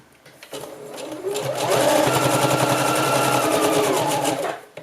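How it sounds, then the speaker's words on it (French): A sewing machine runs a holding seam along bias binding, starting up and racing in a steady, loud, fast whirring stitch for a few seconds before stopping, close and alone. "je peux venir faire aussi une piqûre de maintien ici pour éviter que ça s'ouvre tout le temps"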